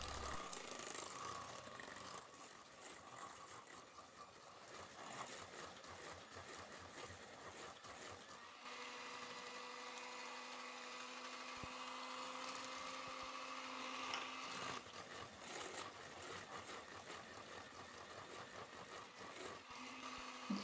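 An electric mixer beats eggs into cake batter, one egg at a time, a steady whirring drone that shifts pitch midway as the speed changes, faint and continuous with no talking.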